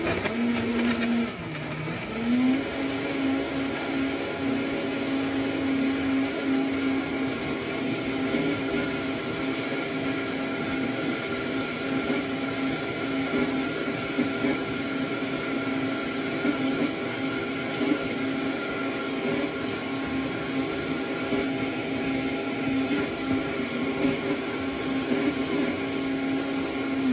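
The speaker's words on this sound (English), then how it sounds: "while the blender is doing its thing" A blender runs steadily, blending cottage cheese into a sugar-free pudding, with a brief dip in motor pitch at the start before a constant loud whir that holds throughout.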